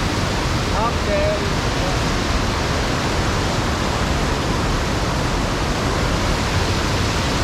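Powerful floodwater rushing over a concrete spillway, a loud unbroken roar of churning water close by, with a few faint calls barely audible under the torrent.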